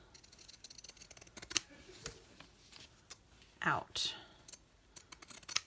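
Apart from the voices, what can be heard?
scissors cutting out fabric shapes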